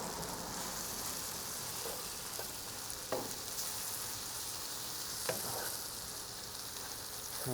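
Green beans and peppers sizzle in a paella pan on the grill, a steady close frying hiss with a few soft clinks as they are stirred.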